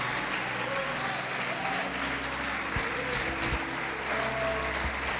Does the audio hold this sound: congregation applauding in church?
yes